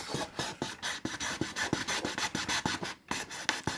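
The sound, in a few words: cutting a wooden fruit crate along marked lines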